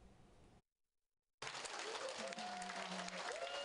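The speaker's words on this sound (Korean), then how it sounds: "신나는 노랫소리에 맞춰 어르신들의 박수 소리와 웃음이 끊이지 않습니다" Elderly people at a community center clap along to lively Korean folk songs, a brief burst, then a gap of silence before dense, continuous clapping resumes with a singing voice and music underneath.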